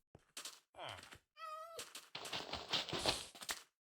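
A Minecraft cat meows in a desert-only hardcore world, a short clear meow amid game thuds and clicks, with several separate in-game sound effects and brief bursts of noise.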